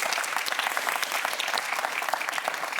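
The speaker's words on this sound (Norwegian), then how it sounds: "Applaus til San Marino." Studio audience applauding San Marino's score on a Norwegian Eurovision preview show, dense rapid clapping from a sizable crowd, even and sustained throughout without talk.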